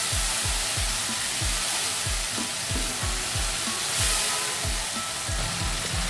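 Masala sizzles loudly in a hot pan as it is mixed for seviyan, with a steady hiss under a quick regular rhythm of spoon or spatula strokes scraping through the spices.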